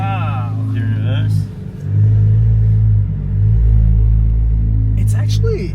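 A Honda NSX engine gives a low, steady rumble while the car reverses, close by, with the pitch briefly dipping and swelling; people talk over it.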